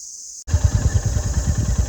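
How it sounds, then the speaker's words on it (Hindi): Motorcycle riding on a mountain road in the Upper Kullu Valley, Himachal: a loud, close engine rumbles steadily with a pulsing, throbbing exhaust beat and constant wind noise. "इसलिए इस रास्ते से बाइक पे ही चलते हैं"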